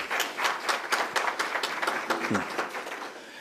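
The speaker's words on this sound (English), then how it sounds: "please give both presidents a round of applause" A crowd claps steadily at a press conference, a dense patter of applause from a room full of people.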